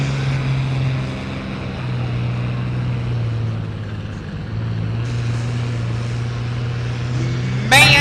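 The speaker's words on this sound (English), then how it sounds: "Melvin Mark, John Deere 4020." A John Deere 4020 tractor roars steadily under load at a tractor pull, a sustained deep engine drone with shifting pitch that builds toward a louder surge at the end.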